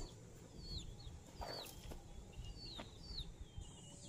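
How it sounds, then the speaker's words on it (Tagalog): Roosters and hens on a small farm, a few faint clucks and short calls over a quiet background, with birdsong chirping in the distance. "Binabantayan ko yung dalawang tandang para hindi lumapit."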